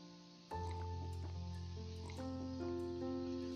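Chewing on beets in the survival video game Raft gives a soft, wet squishing crunch that starts abruptly and continues steadily beneath sustained game music.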